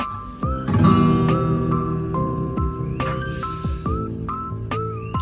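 An acoustic guitar strums a chord repeatedly, each strum ringing out with bright overtones before the next, at a steady relaxed pace with no voices.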